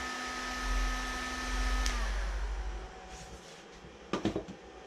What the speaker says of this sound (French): j'ai arrêté l'impulsion du bouton, mais bon, le ventilo il tourne encore